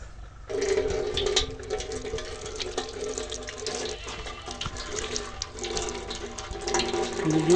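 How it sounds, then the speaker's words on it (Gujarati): A tap runs steadily into a tub while water is drawn for washing a bike, with a continuous close splashing flow from just after the start to the end and no talking. "થોડું પાણી લઈ લઈએ નળમાં."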